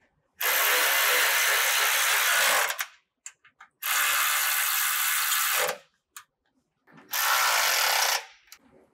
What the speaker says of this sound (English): Now we're going to tighten our rear bolts and our security bolts.